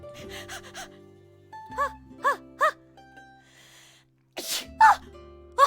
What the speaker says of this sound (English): My sneeze came back!